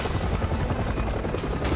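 A helicopter in Resident Evil 6 drones with a loud, continuous low rotor thump and whine, steady and close throughout, with no voices.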